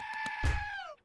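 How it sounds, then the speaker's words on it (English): A cow in the video game 7 Days to Die gives a single drawn-out, distressed moo that rises in strength midway and then cuts off, up close with a few short game thumps around it. "Somebody is hurting this cow."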